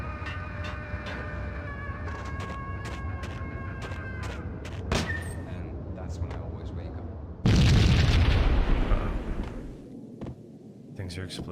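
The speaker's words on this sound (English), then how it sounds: "Things are exploding, Max." Explosions in the action game Max Payne: scattered sharp pops and bangs give way to a loud, deep booming blast that rumbles on for a couple of seconds before fading, with no talk over it.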